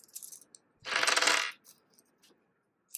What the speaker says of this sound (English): we're going to take off our marbles